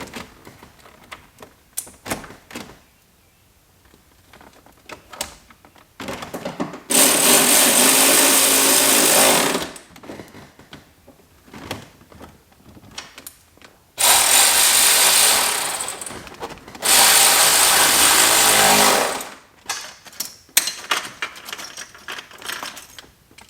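Power tools bolt a part onto a C5 Corvette: three loud sustained bursts of driving, each a few seconds long, separated by clinks and rattles of metal and tools, close by.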